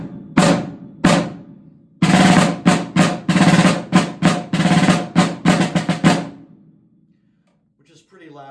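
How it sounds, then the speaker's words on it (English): A rope-tensioned snare drum with an ash shell is struck loudly up close: two single hits, then a rapid series of sharp rattling strokes and short rolls, ringing out before quiet at the end. "And the snare drum would sound like this."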